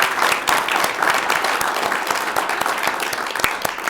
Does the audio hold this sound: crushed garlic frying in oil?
no